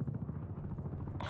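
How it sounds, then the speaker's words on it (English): Enemy attack helicopter overhead in Call of Duty Cold War, a steady low rotor thrum with pulsing beats throughout, joined near the end by a brief brighter hiss. "Enemy attack helicopter above."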